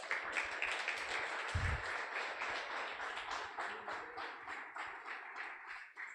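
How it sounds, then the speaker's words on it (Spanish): A church congregation claps together, a dense, sustained round of applause that stays fairly even for several seconds, with a few dull thumps mixed in. "Den un aplauso al Señor por eso."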